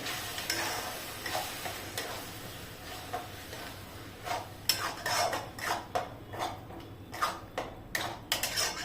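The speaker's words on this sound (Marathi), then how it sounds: "टोमॅटोची पिवरी टाकायची आहे ती पण छान परतवून घ्यायची आहे" Tomato puree being sautéed in a pan for a paneer and peas curry, with a soft oily sizzle under repeated spoon scrapes and clinks against the pan that quicken toward the end.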